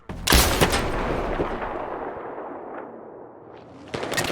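A .50 caliber sniper rifle fires in Battlefield 3, one loud, booming shot opening with a sharp crack, then a long rolling tail that fades over several seconds before another burst of fire near the end.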